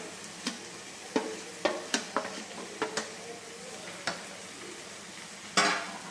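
Onion greens and mashed roasted eggplant being sautéed for Khandeshi bharit, a quiet stir-fry with a faint sizzle and a series of sharp spoon scrapes and taps against the pan at irregular intervals.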